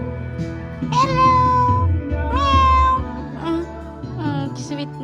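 A cat gives several drawn-out meows, close and fairly loud, with soft background noise between calls.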